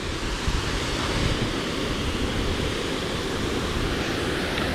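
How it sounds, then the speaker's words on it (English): Roadside waterfall along the Tongass Highway near Ketchikan in pouring rain, a steady, loud broadband roar of rushing water with rain and some wind buffeting, continuous and close, no voices. "we spotted what looked like a little waterfall. There's nothing little about it, and it's pouring rain today"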